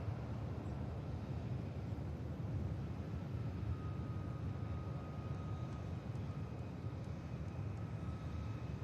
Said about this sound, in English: Emirates Airbus A380 about to land